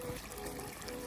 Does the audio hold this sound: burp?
no